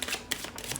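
Romance oracle cards being shuffled, a brief run of soft papery riffles and slaps close up, quiet and without talk.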